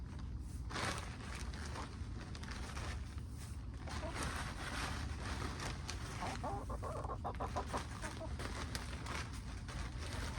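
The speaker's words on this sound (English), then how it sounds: "Chickens are really nosy creatures." Chickens scratching and pecking through deep litter, giving soft scattered clucks over a steady rustling background, with faint creaks and footsteps nearby.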